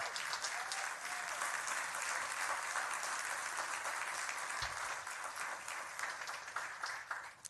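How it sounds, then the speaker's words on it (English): Steady applause from an audience at a city council special meeting in Baldwin Park fills the room, a dense even wash of clapping that holds at a constant level throughout. "So please give him a big round of applause for that."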